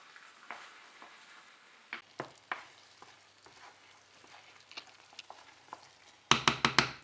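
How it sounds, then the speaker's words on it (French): A spoon stirs parmesan into a fennel risotto, producing a soft sticky sizzle and intermittent close scraping strokes, ending with a quick burst of rapid clattering stirs. "du parmesan. mélange le tout."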